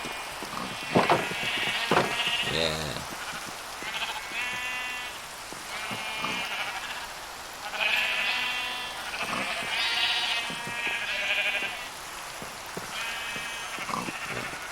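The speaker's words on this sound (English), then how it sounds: "Farming some sheep." Sheep bleat repeatedly in a farming video game, several close, wavering calls spread across the stretch, with a soft rainy patter beneath and a brief spoken word from a player.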